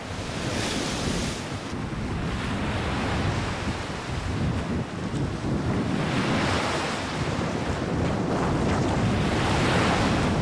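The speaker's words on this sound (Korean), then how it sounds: "바람이 거세다 싶더니 바다가 요동친다" Strong wind roars and rough sea waves crash near the far western islets of the West Sea, a loud, continuous buffeting wash with surges of surf.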